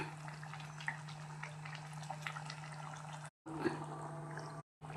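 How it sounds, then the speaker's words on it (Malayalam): Pot simmering under a lid in a home kitchen, a faint, soft bubbling over a steady low hum, with two brief dropouts near the end. "ഇതിൽ നമുക്ക് ഇത്തിരി മൂടി വയ്ക്കാം തിളയ്ക്കട്ടെ"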